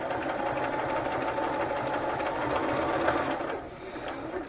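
A sewing machine runs steadily, stitching a zigzag seam on a paper envelope, its motor whirring continuously at close range and easing off near the end.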